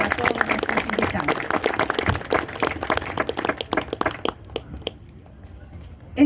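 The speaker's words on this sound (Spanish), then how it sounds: "Un fuerte aplauso para todos nuestros invitados." An audience at a community museum talk on the history of Parque Revolución applauds its guests with dense, lively clapping that thins into scattered claps and fades toward quiet at the end.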